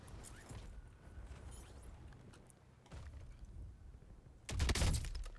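Video game gunfire sounds as faint rattling bursts of shots, with a denser volley near the middle and a louder, heavier burst toward the end.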